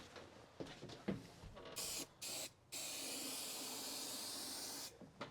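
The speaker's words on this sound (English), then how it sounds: "Don't spray it like deep inside there, but just make sure you get a little bit of glue behind this plastic edge" Spray adhesive hisses out of an aerosol can onto a plastic-edged wall panel inside a 2023 Ford Transit van, with a few short bursts and then one long steady spray close by, alone without talk.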